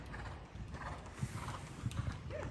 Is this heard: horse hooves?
yes